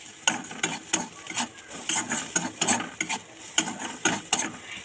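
Spoon stirring a chicken roll filling mixture seasoned with turmeric and salt, giving regular rhythmic scraping clicks against the pan about twice a second over a light sizzle, close and clear with no talk.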